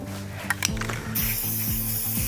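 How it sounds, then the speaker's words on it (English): White spray paint hisses from a can in steady bursts, with a few short clicks and rattles of the nozzle beforehand and a low mechanical hum running underneath, close and fairly loud with no talking. "Okay, more white spray paint."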